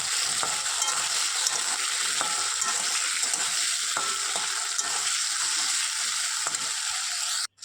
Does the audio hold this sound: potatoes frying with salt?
yes